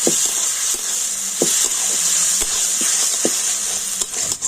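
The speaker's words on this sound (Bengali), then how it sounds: "সব কিছু আমি একটু হালকা করে নাড়াচাড়া করে নেব" Beaten sour yogurt and spices sizzle loudly in a hot pan with eggs and lentils, a steady bright hiss broken by regular knocks and scrapes of a spatula being stirred through the mixture.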